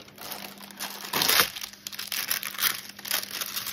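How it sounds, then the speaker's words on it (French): Baking paper peeled away from a hot, freshly melted plastic sheet in a crafting session, giving crinkly, papery crackles with one louder tearing rustle early on, then softer intermittent crumpling close to the microphone. "en retirant le papier sulfurisé, donc déjà, attention, hein, c'est brûlant."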